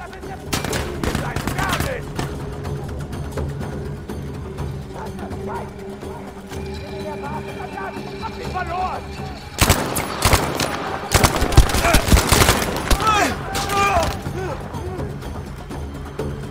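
Gunfire in the video game Battlefield 5, with sharp broadband bursts of rapid shots clustered near the end over a steady background of game ambience and low rumble.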